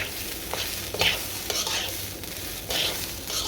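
Rice for tehari frying in a pan, with a constant sizzle and scraping stirs from a spatula at irregular intervals, close and alone.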